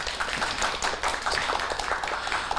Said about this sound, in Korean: 이규만 감독님 그리고 최경선 미술감독님 두 분에게도 박수 보내주시고요